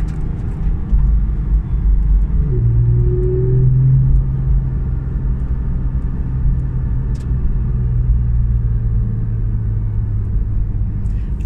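A 2016 Porsche 911 GT3 RS on a test drive, its engine rumbling loud and close from inside the cabin as it accelerates, with a rising engine tone over a steady road roar and no talking.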